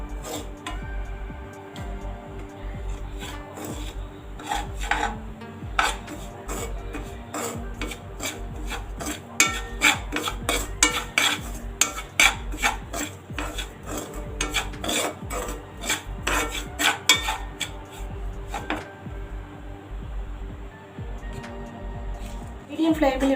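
Dry semolina (rava) roasting in a pan for sweet kesari, stirred steadily with a spoon, giving continuous close rasping and scraping strokes in an irregular rhythm, with a voice talking over it.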